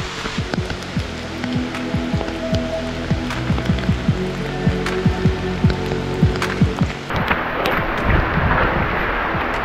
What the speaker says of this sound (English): Enjoying some rain now